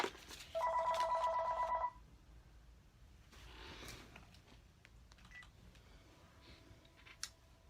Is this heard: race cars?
no